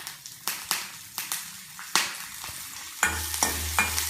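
Chopped ginger and green chili sizzle in a hot pan, with repeated sharp stirring scrapes at an irregular rhythm and a steady frying hiss close up, no talking.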